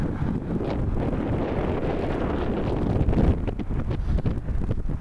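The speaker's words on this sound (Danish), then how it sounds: "Nu står jeg lige i blæsten" Wind gusting at a beach, buffeting the microphone with a low, rumbling roar that rises and falls, growing choppier toward the end.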